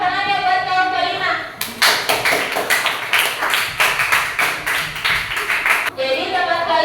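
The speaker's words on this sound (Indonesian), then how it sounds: "Beri dulu tepuk tangannya buat kelompok 5" A classroom of students applauds a presenting group, a dense burst of clapping lasting about four seconds that starts abruptly and stops abruptly, with a teacher's voice before and after.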